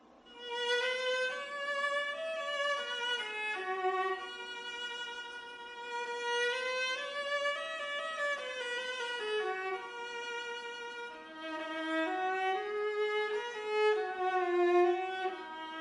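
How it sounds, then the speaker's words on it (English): A solo viola, the slightly larger, lower-pitched relative of the violin, plays a flowing melodic line of sustained bowed notes rising and falling, clear and close with no talking. "And that is the viola."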